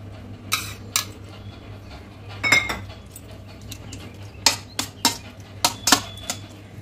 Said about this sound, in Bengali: মশলাটা যতক্ষণ না শুকনো হচ্ছে এইভাবে আমি নেড়ে নেড়ে এটাকে কষিয়ে নেব।